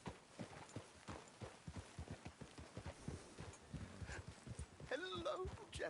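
Horse hooves clip-clopping in a Western-style video game, a rhythmic run of close, steady hoofbeats on the ground, with a voice speaking over them toward the end.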